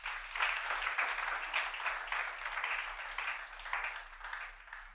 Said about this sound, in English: Well, can we clap for him again?